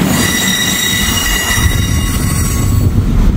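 A freight train rolls slowly past on the tracks in farm country, wheels squealing steadily with a continuous metallic screech over a deep rumble of rail cars, close and loud throughout.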